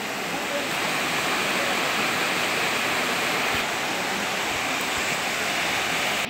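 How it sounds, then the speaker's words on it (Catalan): Waterfall at the Gorgo Català, fed by water from the Font Negra and flowing toward the Júcar river, a loud, close, steady rushing roar of falling water with no break. "totes aquestes cascades"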